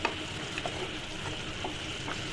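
Chicken cooked with beetroot and chicken masala sizzles steadily in a pan while it is stirred, with soft scraping ticks over a constant frying hiss and no voices.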